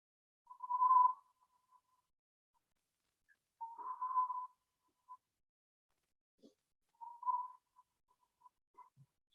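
Gurgling whistles imitating small birds to draw them in, three separate warbling phrases spaced a few seconds apart with short faint chirps between, clear and close against silence.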